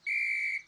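A cartoon kitten blows a shiny whistle, producing one clear, sustained high-pitched tone lasting just over half a second before it cuts off.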